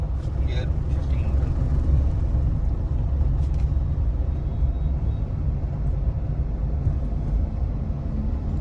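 Maruti Suzuki Swift engine running steadily while driving with gear shifts, a constant low drone and road rumble heard from inside the cabin.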